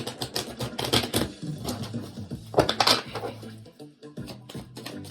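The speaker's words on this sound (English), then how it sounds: "Give it a good shuffle." Quick papery flutters and soft slaps of tarot cards being shuffled, in bursts of riffling close by, no voices.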